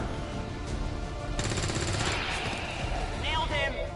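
Rapid automatic gunfire bursts in the XCOM 2 video game, sharp repeated shots in the mid-distance over game noise, with soldier voice lines spoken over the action.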